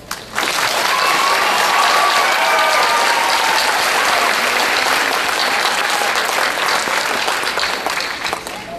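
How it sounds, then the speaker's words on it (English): Sustained applause from a large graduation ceremony audience, a dense steady wash of clapping that fills nearly nine seconds at full loudness before tapering slightly at the end. "You may now applaud"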